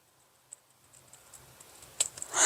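Microtip scissors cut straight across a fabric border in a run of faint, quick snips and clicks that quicken and grow louder toward the end, close by and with no voice.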